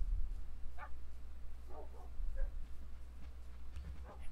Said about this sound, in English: there are two random wolves and three random wolves in there